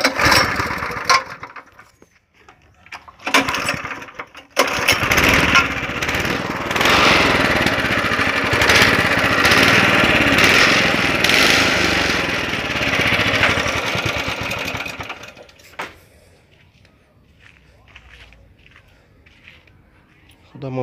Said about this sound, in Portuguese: Dá um toquezinho na aceleração do carburador ali, que tá estancando.